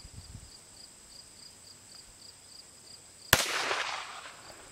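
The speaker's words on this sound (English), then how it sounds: "this is Lacey with the 22 Magnum" A single sharp gunshot from a .22 Magnum firearm rings out over steady outdoor insect chirping, followed by a brief rushing tail as it fades.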